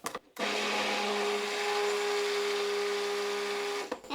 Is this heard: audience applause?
no